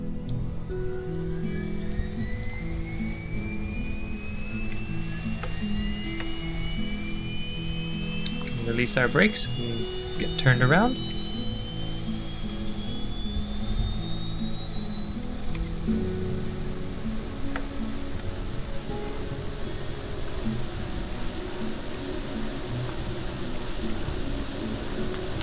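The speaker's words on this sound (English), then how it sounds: "So let's get our engines back on." Rover engines in Kerbal Space Program hum steadily and rise gradually in pitch as the vehicle gets moving, with someone talking briefly over them partway through.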